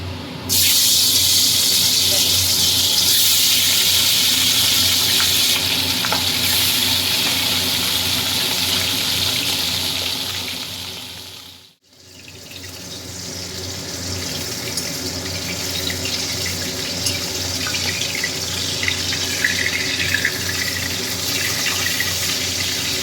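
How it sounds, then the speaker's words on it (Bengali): Fish frying in hot oil in a home kitchen gives a loud, continuous sizzling hiss. It fades briefly to near silence midway, then the crackling sizzle builds back up. "তেল গরম হয়ে গেছে এবার আমি মাছগুলোকে ভেজে নেব"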